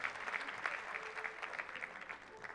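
A television studio audience on a Popstar talent show claps for arriving singers Güngör Hoşses and Hamdi Akatay, giving brisk, lively applause with rhythmic peaks at moderate loudness throughout.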